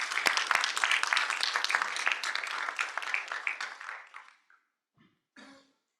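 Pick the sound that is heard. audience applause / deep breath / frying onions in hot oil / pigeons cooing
audience applause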